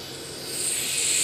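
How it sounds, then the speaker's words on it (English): A free-spinning, non-returning yo-yo with precision ball bearings whirs aboard a spacecraft in orbit, a steady high hiss that swells slightly louder over a second, heard alone. "that's the sound of precision ball bearings"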